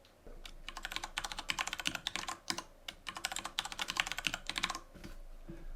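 Quiet, rapid keystrokes on a computer keyboard as a passphrase is entered, two bursts of close, light clicking separated by a brief pause, with no talk.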